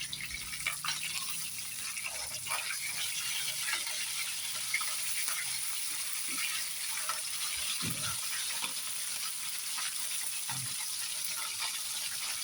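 Galunggong fish frying in a pan of oil gives a steady, bright sizzle and crackle with occasional soft pops and stirring knocks, heard close and continuous with no talk.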